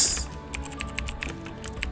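Fingers typing on a computer keyboard, with a quick, uneven run of light clicking keystrokes close up and no voices.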